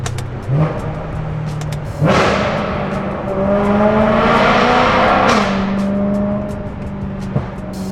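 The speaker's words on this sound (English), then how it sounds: "let's see what the M3 sounds like in a tunnel. Let's do some downshifts." A BMW M3 engine with a titanium exhaust revs hard and drops through gears in a tunnel, the roar echoing loudly, with rising and falling pitch and exhaust crackles.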